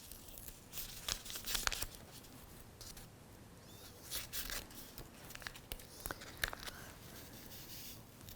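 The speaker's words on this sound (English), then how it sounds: "So let me just get my handy scissors here." Scissors cut open packets of sazon seasoning in a home kitchen, giving close, quiet snips and crinkly tearing of the packet material in short irregular bursts, with no talking.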